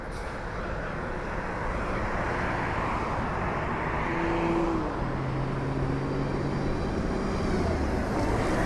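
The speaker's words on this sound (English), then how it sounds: "here's bus number 3 now" City bus number 3, bound for Aventura Mall, rumbles past on a downtown Miami street at night, a broad engine roar swelling gradually as it nears and holds fairly close.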